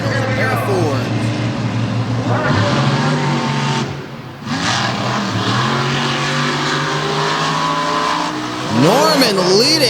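Roaring monster truck engines, a pair of Fords, rev and scream past at high speed in a drag race, with a commentator's voice talking over the loud racing noise.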